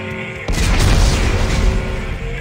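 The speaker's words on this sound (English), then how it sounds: "Computer, arm explosives. And" A loud, sudden blast of detonating explosives in Dead Space 3, erupting after a brief calm and rumbling heavily before slowly fading.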